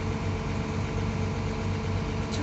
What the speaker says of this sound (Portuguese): A Scania chegando no carregamento aí pra vocês